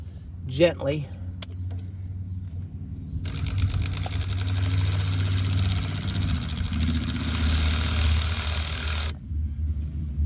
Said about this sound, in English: grab your electric ratchet with the other, and just gently